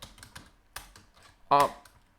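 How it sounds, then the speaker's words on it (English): Someone taps on a computer keyboard with a recorder placed close by, making a few scattered, soft clicks and one louder burst, and a voice is heard briefly. "It's kind of hard to type on this keyboard when my recorder's like below it or above it."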